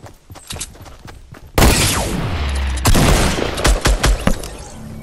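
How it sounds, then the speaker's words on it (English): Hunting rifle sniper shots in the Fortnite video game: a loud, sharp gunshot with a long booming tail, then a second heavy shot, surrounded by quick clicks and footsteps, with no talking. "here's some action of what the sniper can do"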